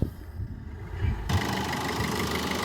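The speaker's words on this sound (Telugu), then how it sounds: "ఇంజన్ సౌండ్ మాత్రం ఇట్లా ఉంది" A 2015 Maruti Suzuki Swift Dzire ZDi diesel engine rumbles low on push-button start, then catches midway and settles into a steady, vibrating idle hum.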